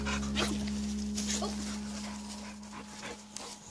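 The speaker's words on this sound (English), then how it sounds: "Macy, this is a big dog" A big boxer dog whimpers and yips in short bursts, fairly close, over a steady background hum.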